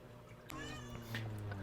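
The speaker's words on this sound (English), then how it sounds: "my cat's coming in to say hi. Meowing in the background." A pet cat gives a brief, faint meow close by, set against a low steady background hum.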